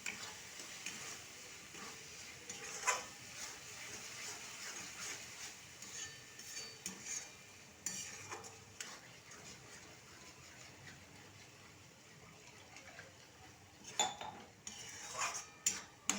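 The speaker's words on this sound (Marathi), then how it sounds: "आता आपण त्यात टाकूया ही उकडलेली मटकी मटकी मसाला छान परतून घेऊ" Boiled moth beans are sautéed with oily masala in a pan for misal over high heat, with steady scraping and stirring, occasional metallic clinks of the spoon against the pan and a soft sizzle underneath.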